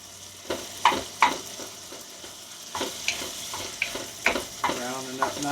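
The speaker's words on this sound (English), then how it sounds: "Let's go ahead and give our meat a stir and see where we're at." Ground meat browning with garlic and onion in a pot for tailgate chili, sizzling steadily while a spoon stirs it in several distinct scraping strokes, close up, with no talking.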